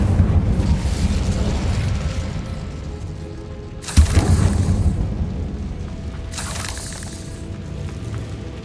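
A fire spell cast in Hogwarts Legacy lands as a sudden loud whooshing burst, followed a couple of seconds later by a second fiery flare over a steady rumbling game backdrop.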